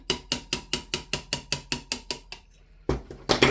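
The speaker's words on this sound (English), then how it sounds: "so if we partially push the pin out" Mechanical handling of an APFG MCX Rattler gas blowback rifle (VFC) as its pin is pushed out: a steady run of about a dozen sharp, evenly spaced ratcheting clicks, a short pause, then louder clacks and rattles at close range.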